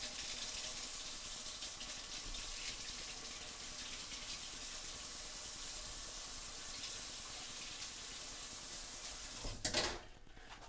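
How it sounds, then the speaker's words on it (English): Tap water runs steadily over a pancake-batter whisk being rinsed in a sink, a continuous close hiss and splash that ends with a brief louder clatter and gush near the end. "I'm gonna rinse this off."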